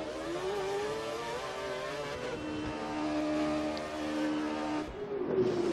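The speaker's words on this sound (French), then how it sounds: "Et c'est la Ferrari de Gouille qui ressort devant." A Ferrari race car pulls out of the pit lane in a racing game, its engine holding a high, steady whine that rises slightly before the sound shifts at the end, moderately loud with no talking.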